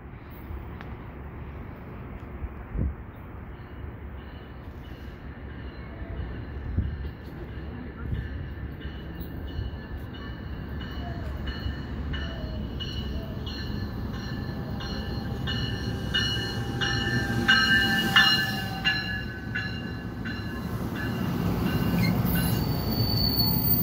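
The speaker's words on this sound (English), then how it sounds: "it was a commuter train" An EXO multilevel commuter train passes Du Canal station, its wheels letting out sustained high metallic squeals that grow louder over a steady rolling rumble.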